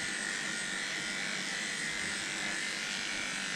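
An Oster 3000i electric clipper fitted with a wide blade and snap-on comb clips hair, giving a steady, close, high-pitched buzz that runs unbroken and alone.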